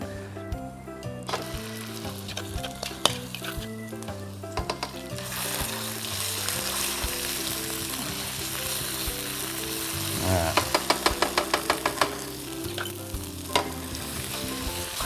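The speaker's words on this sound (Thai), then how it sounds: "ใช้โอลีนผัดเราจะผัดพริกแกงของเราให้หอม" Thai curry paste stir-fried in Olein palm oil sizzles steadily in a hot pan, with a spatula scraping and clattering in quick bursts and a run of rhythmic knocks toward the end.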